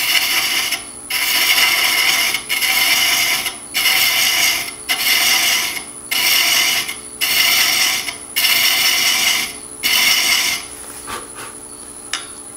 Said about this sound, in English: all I'm doing is pushing my thread chaser into that groove just a little bit